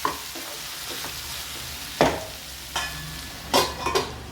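Brinjal sautéing in a pan for Chidambaram kothsu, with a steady low sizzle broken by several sharp scraping stirs of a spatula, close and loud, no talking.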